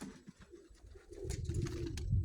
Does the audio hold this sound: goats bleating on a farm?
no